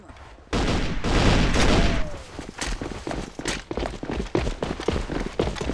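Rifle fire from the shooter game AvA breaks out in a sudden loud burst, then continues as rapid, close cracks with short pauses, mixed with a distant explosion-like boom and footsteps.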